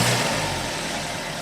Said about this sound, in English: Now let's hear the engine sound.